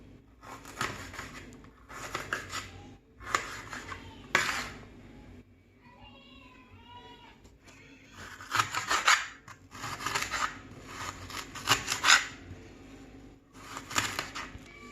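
Vegetables are cut up for Jamaican-style chicken chop suey with cabbage, with bursts of rasping, scraping knife strokes in quick runs, close and fairly loud, separated by brief pauses and a faint squeak.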